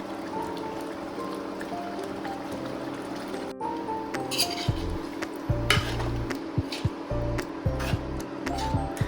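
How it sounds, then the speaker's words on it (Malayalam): A spoon stirs and knocks against a pot of Kerala-style chicken stew as coconut milk and cashew paste are mixed in off the heat, giving soft scraping and wet squishing with a few sharper clinks near the end. "ഫ്ലെയിം ഓഫ് ചെയ്ത് അതിലേക്ക് തേങ്ങയുടെ 1ാം പാലും കുറച്ച് കാഷ്യൂനട്ട് പേസ്റ്റ് പോലെ അരച്ചതും കൂടെ ഇട്ട് നല്ലതുപോലെ ഇളക്കിയെടുക്കണം"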